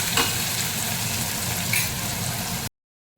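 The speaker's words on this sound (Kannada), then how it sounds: "ಒಂದು 2 ನಿಮಿಷದ ಕಾಲ ನಾನು ಈರುಳ್ಳಿ ಬೆಂಚ್ಕೊತಾ ಇದ್ದೀನಿ." Chopped onions and green chillies frying in a pan, a close, loud, even sizzle lasting under three seconds and then cutting off abruptly into silence.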